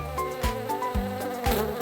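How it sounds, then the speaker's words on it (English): A cartoon bee's buzzing sound effect hums continuously up close, with light musical tones and soft percussive hits beneath it. "Oh, look! It's a little bee."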